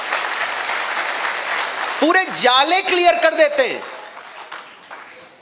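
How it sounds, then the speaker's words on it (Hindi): Audience applause fills a motivational business seminar hall for Alok sir of Mi Lifestyle, a steady crowd wash that carries on under a man's loud speech before fading. "एक बार जोरदार तालियां होनी चाहिए हमारे आलोक सर के लिए।"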